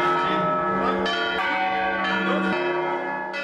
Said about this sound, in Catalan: la festa major ha començat amb un bon repic de campanes